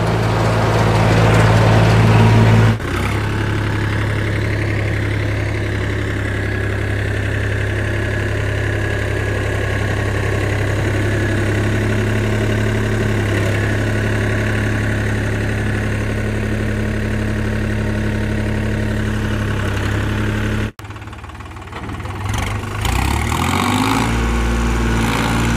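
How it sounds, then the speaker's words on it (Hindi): A New Holland 5510 tractor runs steadily with a super seeder attached, in second gear at 540 PTO rpm, its loud continuous engine drone holding throughout before a brief drop and roughening near the end. "दूसरे गियर में चल रहे हैं, और आरपीएम देख सको आप 22 की रेस पे है और पूरे 540 आरपीएम पे है"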